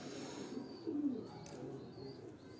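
Pigeons coo on a rooftop, one soft, low rolling coo rising near the middle over faint background hum and distant chirps, quiet and a little distant, with no talking.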